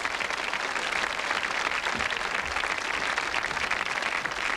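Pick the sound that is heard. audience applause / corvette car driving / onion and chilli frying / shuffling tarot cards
audience applause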